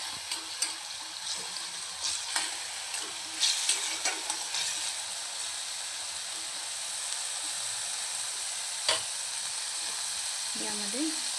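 Ground chili paste sizzling in hot oil in a pan while cooking French bean sabzi, a steady close frying hiss with scattered stirring scrapes and a few louder pops, no talking over it.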